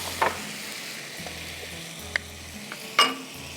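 Ginger garlic paste frying in a pot for a Gujarati curry, sizzling steadily at close range while a spoon scrapes and stirs with occasional sharper clicks, no talking.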